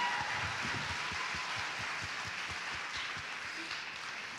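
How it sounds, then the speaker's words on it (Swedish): Applause from a convention audience at a cosplay event in Stockholm: dense, steady clapping from a large crowd, moderately distant, fading slightly toward the end. "En varm applåd!"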